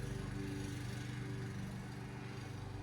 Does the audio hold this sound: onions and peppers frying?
no